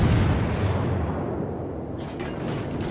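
Guns of the German destroyer V 25 firing in World of Warships, heavy booming salvos rolling into a rumbling decay, loud and close with no talk.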